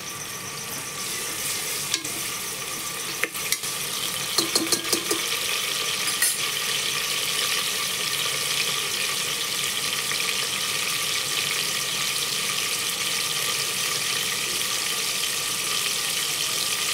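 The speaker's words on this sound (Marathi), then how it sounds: "तेल टाकल्यानंतर आपल्याला याच्यात टोमॅटो टाकायचे." Tomatoes frying in hot oil in a pan for a vegetable dish, giving a steady loud sizzle throughout with a few clicks and spatters early on, heard alone without talk.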